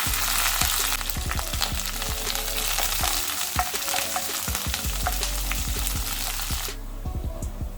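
Mustard seeds, chopped shallots and curry leaves sizzle and crackle in hot oil for a Kerala pumpkin-leaf thoran, a dense steady hiss broken by sharp spoon clicks and scrapes against the pan as it is stirred.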